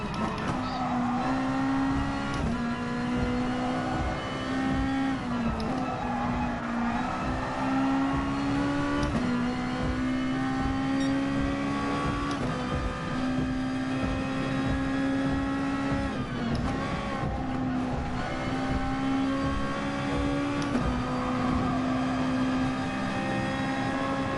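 Race car engines drone through a 20-lap PS4 racing game, a continuous loud whine rising and falling with gear shifts, with faint tyre squeals.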